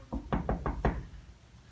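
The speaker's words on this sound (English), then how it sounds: "So I knocked on the door." Five firm knocks rap on a wooden door in a quick, slightly uneven sequence, close and clear, followed by a quiet pause.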